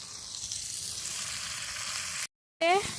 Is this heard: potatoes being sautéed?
yes